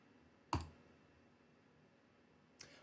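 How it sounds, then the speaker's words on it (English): A single sharp mouse click on an on-screen Allow button, close and crisp, then a fainter second click about two seconds later in an otherwise quiet room. "I'm going to click Allow up here"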